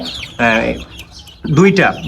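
Chickens on a farm give two close, loud clucking calls separated by a brief pause, with black hens among the birds.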